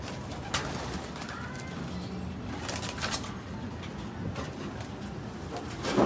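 Pigeons in a stock bird loft coo softly amid a steady background murmur, with scattered brief wing flaps and rustling bursts, fairly close and moderately loud, with no talking.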